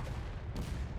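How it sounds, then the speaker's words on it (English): Cannon fire in a Civil War battle video game, heard as a single short, fairly faint boom from a distance over low rumbling battlefield noise. "Red artillery is doing a little shooting."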